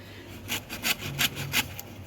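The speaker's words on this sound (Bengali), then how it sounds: "বড় বাটিতে করে আমি কিন্তু ঘষে নিচ্ছি" Dessert ingredient rubbed against a grater in a large bowl, five or six short rasping strokes in an irregular rhythm, close and fairly quiet, with no talk.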